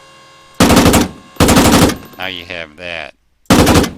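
Machine gun fired from the gunner seat of a WW2 armored vehicle in Arma 3, in three loud, sharp bursts, with someone talking in the gaps between them.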